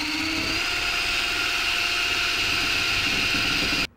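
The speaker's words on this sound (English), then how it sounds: "Screw it right into the stringer. We got our DeWalt wireless here, cordless drill" A DeWalt cordless drill driving screws into a stringer whirs continuously at close range for several seconds, a steady high motor whine that cuts off abruptly at the end.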